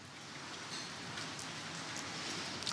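Steady rain falls on a quiet little street, a continuous soft hiss of drops pattering on surfaces without pause, moderately close and unbroken by voices.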